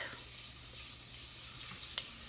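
Garlic sautéing in butter in a pan, giving a soft, steady sizzle with a faint clink near the end, quiet and close.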